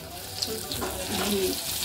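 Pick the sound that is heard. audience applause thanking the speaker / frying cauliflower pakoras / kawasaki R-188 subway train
frying cauliflower pakoras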